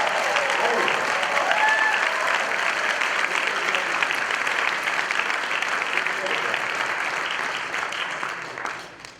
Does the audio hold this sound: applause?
yes